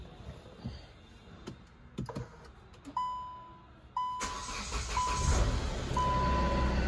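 A car parked in a shed is started after sitting idle for many days. A few clicks and dashboard beeps come first, then the engine turns over and settles into a steady idle rumble nearby.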